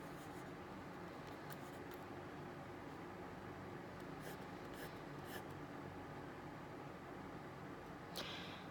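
A pen scratches across paper in a soft, close, quiet ASMR setting, with steady faint strokes continuing alone and no talking.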